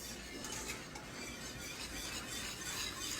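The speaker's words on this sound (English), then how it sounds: "You want to continually whisk this." A whisk runs steadily through Jell-O cook and serve pudding mix in a pot, a soft continuous scraping swish, faint and close with no talking.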